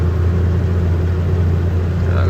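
A heavily loaded vehicle labours slowly up a ghat road, its engine a steady low rumble throughout, close and loud.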